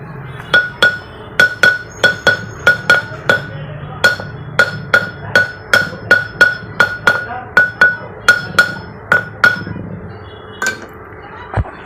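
An emery grinding stone, black and red, is struck repeatedly to show its ring: about twenty sharp, bright metallic pings in a steady rhythm, each with a short ringing tail, close and loud with no talking.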